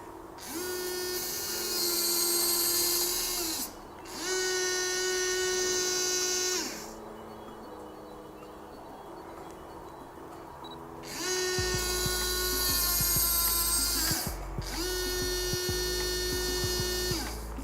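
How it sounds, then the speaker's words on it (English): A Friday Labs smart lock's small electric motor whirs in four bursts of about three seconds each as it locks and unlocks, with a quiet pause between the second and third. "There's a motorized sound that continues after it locks and unlocks."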